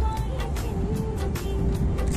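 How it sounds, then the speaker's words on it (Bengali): A metro train rolls into a station in Qatar, a steady low rumble with a faint whine that stays near and continuous throughout. "এই যে মেট্রো স্টেশনে ঢুকতেছে"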